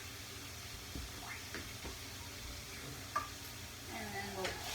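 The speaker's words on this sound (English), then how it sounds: "We're just waiting for the meat to cook." Chorizo and meat fry in a pan for a one-pan chorizo hash, giving a moderate, even sizzle with occasional stirring scrapes and a sharp pop, heard close and alone.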